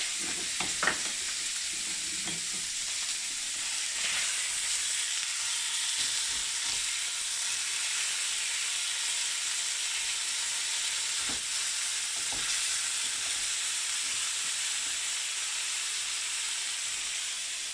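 A loud, steady sizzle and hiss from filet mignon searing in a hot pan, broad and continuous, with a few faint knocks early on.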